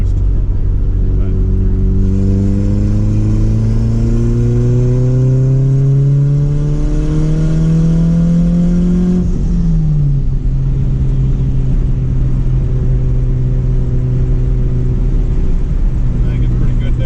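A turbocharged Honda B20 engine is held at rising revs on boost, a loud, close droning tone climbing steadily before dropping back to a steady high idle, with someone speaking underneath.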